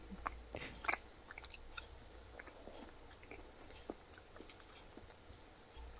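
Close, quiet chewing of Costco Polar whole black garlic cloves, soft irregular bites and mouth sounds spread over several seconds with no talking.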